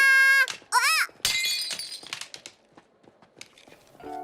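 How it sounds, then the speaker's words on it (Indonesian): Cartoon glass shattering: a sharp crash followed by a scatter of tinkling shards settling over a few seconds, preceded by bright whistling cartoon effects. "Kacanya pecah."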